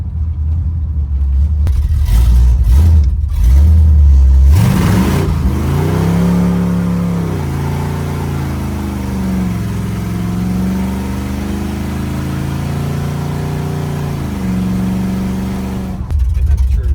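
A 502 big block V8 swapped into a squarebody truck accelerates hard, its loud deep engine drone climbing steadily in pitch inside the cab while people talk over it.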